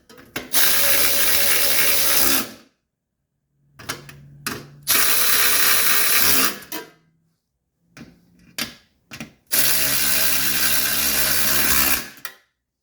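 A ratchet runs down 10 millimeter nuts on a 1983 Mercedes 300TD, in three long bursts of rapid clicking separated by silence and a few short isolated clicks, loud and close.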